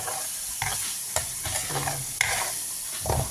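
Coconut milk cooking down into coconut oil in a pan on a farm, stirred with a spoon: a low crackling sizzle under repeated scraping strokes, close and moderately loud, without speech.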